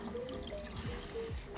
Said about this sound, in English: So I'm going to rinse that off with tepid,